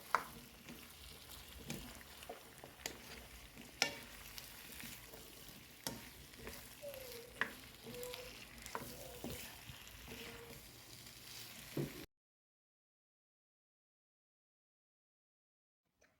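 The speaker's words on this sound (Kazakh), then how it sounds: "3-4 минуттай осылай картоптарымыз қызарып қуырылғанша қозғап тұрамыз" Potatoes frying in an open kazan while being stirred, with steady sizzling and periodic scraping knocks of the utensil against the pot for about twelve seconds, then silence.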